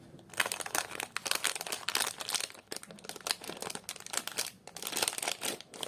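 Plastic packaging around a punch needle set being cut open and handled, a dense run of close crinkling and crackling bursts with no speech.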